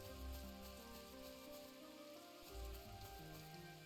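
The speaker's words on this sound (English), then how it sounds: "Oh, great, it's raining." Steady rain falling on a surface in the video game Chained Echoes, a constant hiss with a low rumbling layer and tonal background music, no voices.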